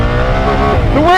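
A 2024 BMW R1300 GS motorcycle with the ASA automatic gearbox launches flat out, its engine roaring loud and close as the revs climb sharply near the end of the short burst.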